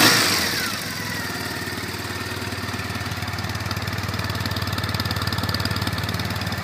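A 2005 Triumph Bonneville T100 motorcycle engine idles steadily close by, a loud, even mechanical thrum with a rapid regular pulse and no talk.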